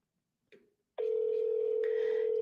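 A telephone rings out during a phone call: after a brief click, a single steady electronic ring tone holds continuously, clear and moderately loud, with no talk over it.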